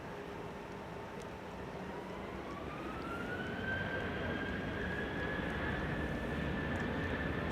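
A KLM Boeing 737-700 departs Amsterdam Schiphol, a steady engine rumble with a rising whine that climbs in pitch midway and grows a little louder, heard at moderate distance.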